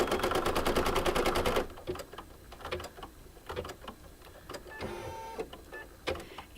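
An embroidery machine stitches an in-the-hoop applique maple leaf coaster, opening with a fast, loud, even needle rattle that then gives way to slower, quieter stitching with intermittent ticks and mechanical thumps nearby.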